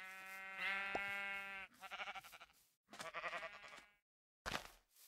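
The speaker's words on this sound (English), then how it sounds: "Lots of sheep." Sheep in the video game Minecraft give several loud, close bleats, one long wavering call followed by shorter pulsing baas separated by brief silences, with no talk.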